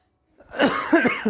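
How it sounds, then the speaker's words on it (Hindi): A few rough, close coughs in quick succession, with a raspy throat-clearing quality. "खांसी हो गया, थोड़ा सा गला खसखस कर रहा है"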